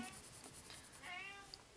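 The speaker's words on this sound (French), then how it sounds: "Je sais pas si vous entendez mon chat, mais il veut rentrer dans la chambre." A house cat meows outside a bedroom door wanting to be let in, a faint, brief drawn-out cry rising and falling, heard alone in a quiet room.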